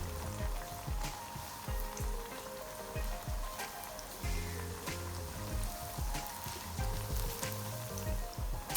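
Steady crackling sizzle of dumplings frying in hot oil, continuous and close, with dense popping spatters throughout.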